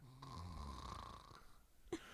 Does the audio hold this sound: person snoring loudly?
yes